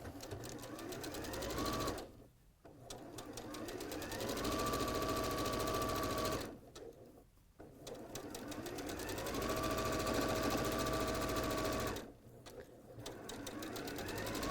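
A sewing machine stitches quilt pinwheel block pieces together in three long steady runs, each broken by a short pause, close and fairly loud with some talking around it.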